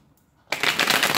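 Tarot cards being shuffled, a crisp riffling burst that starts abruptly after a brief quiet moment and continues steadily up close.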